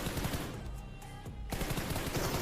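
Rapid automatic gunfire in the PUBG Mobile game, loud bursts of shots that stop briefly for about half a second before firing resumes.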